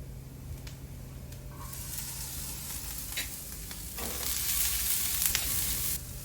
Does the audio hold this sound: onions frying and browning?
yes